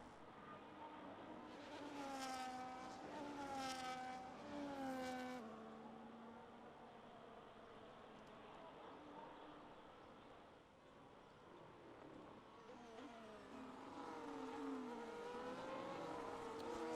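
Race cars in a racing video game roar with engine revving and rising pitch sweeps, one car sliding after damage as others accelerate past, loud and continuous throughout.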